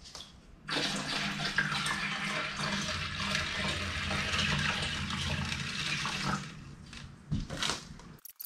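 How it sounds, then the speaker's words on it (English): Water pours steadily into an aquarium tank being filled for a brackish-water gamefish setup, a continuous rushing, splashing flow for about seven seconds that then tapers off into a few small knocks. "back to filling it up."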